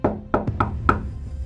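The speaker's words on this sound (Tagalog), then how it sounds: "may kumatok sa pintuan ng kwarto" Knocking on a bedroom door, four or five hollow raps close by in a quick irregular pattern, loud and alone with no voices.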